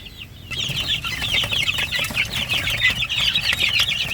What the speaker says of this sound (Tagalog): Well, kami magpapakain ng manok ngayon.